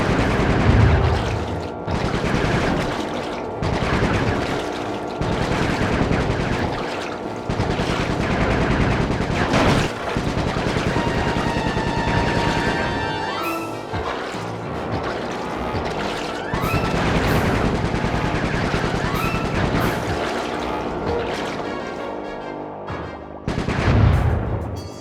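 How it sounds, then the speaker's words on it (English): Repeated gunfire crackles through a Sly 3: Honor Among Thieves game scene, with sharp bursts and rapid machine-gun-like volleys over about twenty-five seconds, loud and close, mixed with crashes and heavier booms near the end. "Nice shooting, Bentley."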